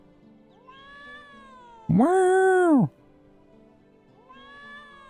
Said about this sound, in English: Oh, is that the cat? Hello, kitty. Can we pat you?